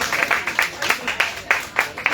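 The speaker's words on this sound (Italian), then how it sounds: "L'applauso è quasi meritato." An audience applauds at an Italian public meeting on Palestine, a steady patter of many hands clapping in a moderate-sized room, fairly close and without speech over it.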